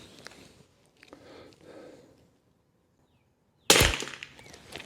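A single loud, sharp rifle shot cracks out close by after a stretch of quiet rustling, its report ringing and decaying over the final second; the rifle has had its barrel crown repaired.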